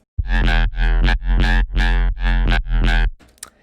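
A heavy, distorted Serum synth bass, layered and frequency-split over a sub bass, plays a series of pulsing notes with a deep sub-bass foundation, each note bright and buzzy, ending abruptly into a short tail.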